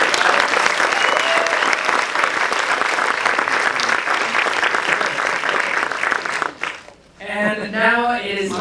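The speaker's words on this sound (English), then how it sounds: "I would love to give you a big round of applause to Ernst & Young." A large audience at an award ceremony applauds in a loud, sustained roar of clapping for over six seconds, then it cuts away and a voice starts speaking.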